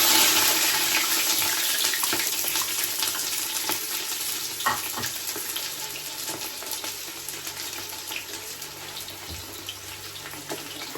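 Chopped onion sizzles and fries steadily in a pan of hot oil for a home-cooked rice and beans lunch, a continuous close hiss with no talking.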